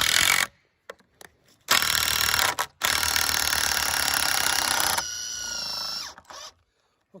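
A power screwdriver drives screws out of a wooden fence rail on a broken-post repair, giving close, loud whirring bursts with short pauses, the last run rising into a higher, strained pitch.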